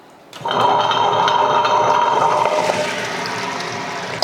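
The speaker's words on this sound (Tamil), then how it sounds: "உளுந்தை போட்டு அரைச்சி எடுத்துட்டு அதுக்கப்புறமா நம்ம அரிசியை வந்து அரைச்சிக்கலாம்" A grinder churns soaked urad dal with its soaking water into idli and dosa batter, a steady loud mechanical whirring and sloshing that starts after a brief quiet moment and runs on without a break, with no talking.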